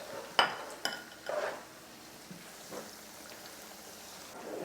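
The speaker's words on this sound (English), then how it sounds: "We're gonna stir it" Food stirred in a cooking pot over low heat while browning in oil, heard as a few light utensil clinks against the pot and a brief scrape, fairly faint, followed by quiet kitchen background.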